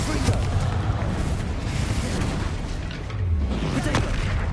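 A Confringo fire spell explosion in Hogwarts Legacy, a booming burst amid continuous loud combat noise, with a heavier thump near the end.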